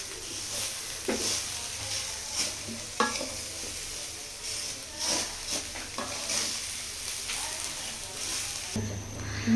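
Ghee-fried semai being stirred with grated coconut in a pan, a steady close scrape and soft sizzle with spoon knocks every second or so, continuous throughout.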